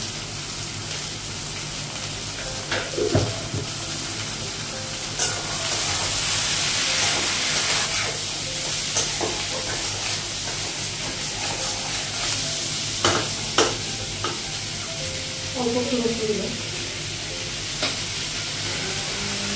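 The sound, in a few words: frying and stirring with turmeric and salt added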